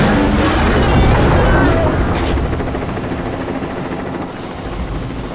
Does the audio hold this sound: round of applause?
no